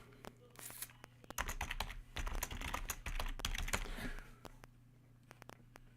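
Rapid clicking keystrokes on a computer keyboard, close and crisp, come in quick bursts with short pauses and no voices.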